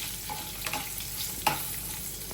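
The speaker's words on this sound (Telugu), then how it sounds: "దీన్ని మంచిగా వేగనివ్వాలి. ఇట్లా కొంచెం క్రిస్పీగా కానివ్వాలి." Dried red chillies, curry leaves and coriander frying in oil as a tempering for a tamarind chutney, giving a steady low sizzle with faint stirring scrapes and a brief sharper clink near the end.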